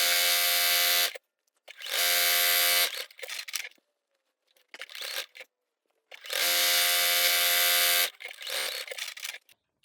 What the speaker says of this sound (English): I'm just sewing the 2 ends of my binding together just so I can finish the round